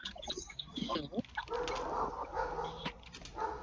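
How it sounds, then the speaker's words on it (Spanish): A dog barks angrily in the background amid an online class session, the barks mixed with children's and adults' talk, fairly close and moderately loud. "Mira, ese perro está muy enojado"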